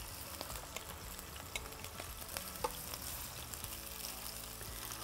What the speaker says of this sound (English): Then in with the sausages.